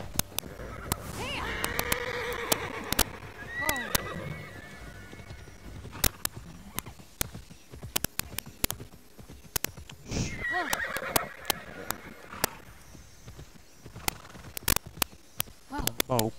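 Horse neighing and whinnying in the open-world game Immortals Fenyx Rising, with quick clip-clop hoofbeats while galloping, a few loud close whinnies early, then sharp clicks and game effects, and someone talking over parts.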